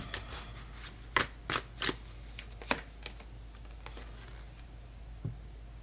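Oracle cards from a Moonology deck shuffled by hand, giving a few sharp riffling bursts and soft card slaps spaced over a quiet room background, close and moderately loud, with no talking.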